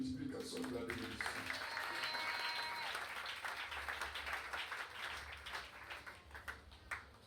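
A church congregation claps and cheers together in sustained, dense applause that swells and then gradually thins and fades, with voices mixed into the crowd noise.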